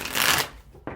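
Tarot cards shuffle in a quick, loud riffling burst close by, then fade to a soft rustle with a short snap of cards at the end.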